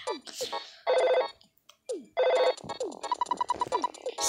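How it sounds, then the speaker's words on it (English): Telephone ringing with repeated electronic trilling bursts, loud and close, broken by short gaps, while voices talk and shout around it. "The phone is ringing. Answer it."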